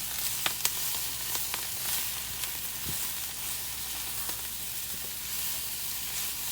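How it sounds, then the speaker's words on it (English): Tuna and Brussels sprouts with seasoning sizzle steadily in a pan as they are stirred, a constant close frying hiss with occasional small scraping ticks. "And now we're just going to give that a mix."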